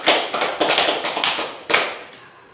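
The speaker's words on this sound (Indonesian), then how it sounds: "Tepuk tangan untuk Mas Alis" Applause in a classroom as students clap for a classmate who answered correctly, a burst of close hand claps that swells in a few waves and then fades out.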